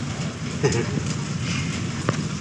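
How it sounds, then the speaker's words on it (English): Steady rain falling outdoors during a motorcycle comparison shoot, a constant close hiss with a few faint taps and knocks through it. "Why am I doing this in the rain?"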